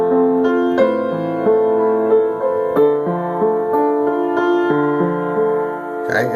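A solo piano plays a melody in 6/8 time, with clear sustained notes over a steady bass accompaniment, up close and alone.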